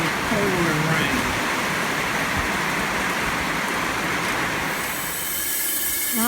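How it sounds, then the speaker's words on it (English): Heavy pouring rain on a farm during an air-conditioning compressor repair on a Case 5140 tractor, a dense, loud, unbroken hiss that fills the whole stretch. "All work has come to a halt for a minute in this pouring rain."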